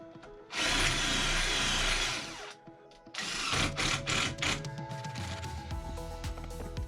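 A power drill drives screws into solid oak porthole window surrounds on a narrowboat build, running in loud sustained bursts with a short pause, then choppier stop-start whirring.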